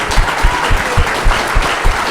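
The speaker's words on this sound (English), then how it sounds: "Y'all clap it up for Ari, y'all." Brief, loud audience applause during a podcast alumni panel, with close claps in a quick irregular rhythm and faint voices mixed in.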